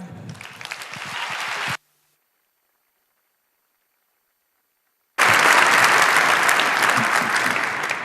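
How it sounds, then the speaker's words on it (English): A conference audience at 34C3 applauds speakers Will and Gabe before their talk on North Korean consumer technology. Loud, sustained clapping breaks off into a few seconds of total silence, then resumes just as strongly. "please, welcome Will and Gabe with a big round of applause"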